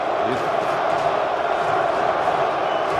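Giants home crowd at a 2000 NFC Championship football game against the Vikings, a dense, steady roar of massed voices chanting together, loud and continuous throughout.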